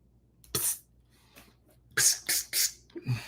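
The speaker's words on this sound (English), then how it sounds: "Got this little cough I'm trying to get rid of." A few harsh coughs, one short burst followed by a quick cluster of three, close and fairly loud, then a softer throaty sound.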